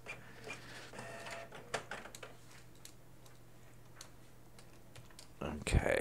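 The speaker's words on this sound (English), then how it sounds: "And I apologize if everybody's hearing my printer running." A home printer runs nearby with a low steady hum and rapid ticking, clicking mechanical passes, then a louder clunk at the end; a voice is faintly present in the background.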